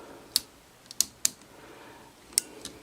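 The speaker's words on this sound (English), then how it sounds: "I like the fact that the waist joint clicks." The die-cast Mad Toys King of Beast Infinity Gokin robot figure's waist joint ratchets in a few sharp, quiet clicks spaced irregularly against near silence.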